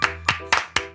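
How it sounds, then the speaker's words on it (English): Four sharp hand claps from a couple of people at a studio show, spaced evenly about a quarter second apart, close and loud with a short ringing tail after each. "Let me get a shot of you clapping."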